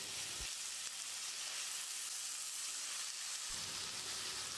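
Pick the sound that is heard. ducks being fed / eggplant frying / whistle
eggplant frying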